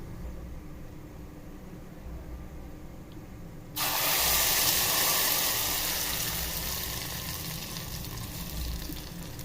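Ground tomato chutney hits hot oil tempered with fennel seeds and curry leaves, bursting into a loud, steady sizzle partway through after a quiet stretch, then frying on evenly and close.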